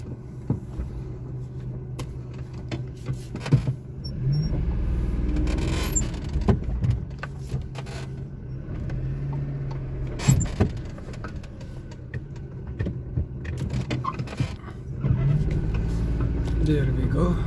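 A 2002 Daewoo Matiz with a 0.8-litre engine reverses and then drives off, giving a low, steady engine drone with occasional clicks and thumps from inside the cabin.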